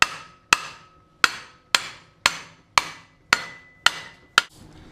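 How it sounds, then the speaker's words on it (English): Eight sharp hammer taps at a steady, unhurried pace, lightly tapping a bearing carrier out of its pocket on a Suzuki LT250R, each ringing briefly, close and clear with no talking. "we're going to take our hammer here and just lightly tap the carrier out of its pocket."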